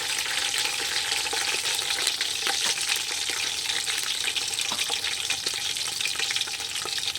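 Curry leaves, fenugreek seeds, small onions and chillies fry in oil over an outdoor wood-fired stove for fish curry, giving a dense, continuous crackling sizzle with occasional sharp pops, close and steady throughout.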